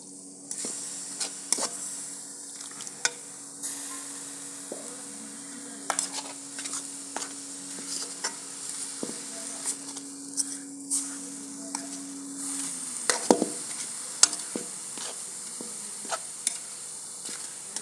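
Coconut laddu mixture being stirred in a pan, with scraping strokes and light clicks of the spoon repeating steadily at close range, a low steady hum underneath and soft sizzling hiss throughout.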